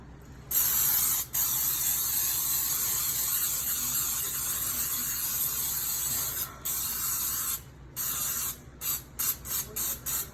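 Pam baking spray with flour hisses from an aerosol can onto a cake pan for a pound cake, one long continuous burst followed by several short, quick puffs near the end, close by and without speech.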